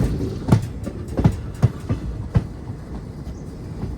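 Wheels of an express train drawn by a WAP-4 locomotive on the Renigunta–Gudur line clatter over rail joints, a run of distinct, evenly spaced clacks over a low rolling rumble.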